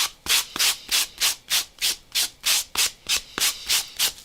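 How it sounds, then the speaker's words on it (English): Rhythmic back-and-forth sanding strokes with a sanding sponge, about a dozen evenly spaced rasps, close and clear with no voices. "for those of you who do not like to hear this sound of sandpaper, mute now"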